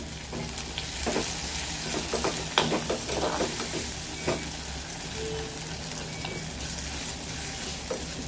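Bitter gourd and tomatoes sizzle and fry in a pan while a utensil scrapes and stirs in irregular bursts, close up, with a steady hiss underneath.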